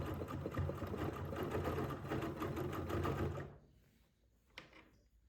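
A sewing machine fitted with a ruler foot stitches while couching fibers along, a rapid steady mechanical whir for about three seconds that stops abruptly, followed by a faint click.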